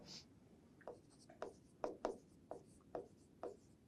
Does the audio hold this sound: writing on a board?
yes